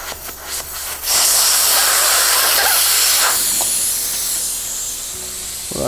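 Air rushes out of a motorcycle inner tube once the valve stem is removed in a home garage, a loud, close, continuous hiss that starts abruptly after a second and slowly eases.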